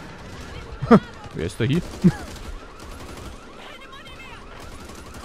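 Gunfire in the zombie shooter Back 4 Blood on PS5, a few sharp bursts early on over busy game noise, while a player talks and shouts over the action.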